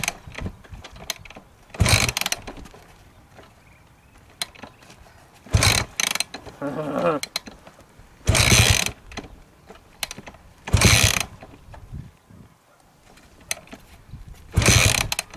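An old, trashed Yamaha dirt bike is kick-started again and again, each kick a short loud mechanical clank and ratchet burst separated by quiet pauses, about six attempts in all.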